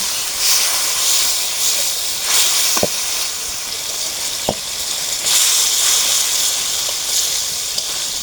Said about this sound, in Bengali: সামান্য একটু জল দিয়ে মশলাটা কষে নেব